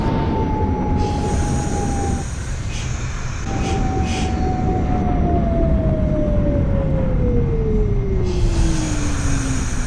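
An R68 subway car on the N line in the OpenBVE train simulator runs steadily with a loud, continuous rumble of wheels on track, a falling motor whine and brief squeals, with no voices.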